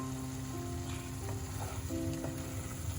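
Raw mustard oil poured over mourola fish frying in a pan with mustard and poppy seed paste gives a soft, steady sizzle, fairly faint and close, with a few light stirring clicks.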